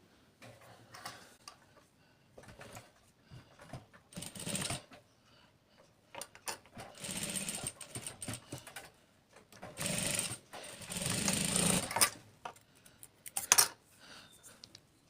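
A sewing machine stitches cloth for a hanging dori cap in several loud bursts of rapid needle clatter, separated by quiet pauses.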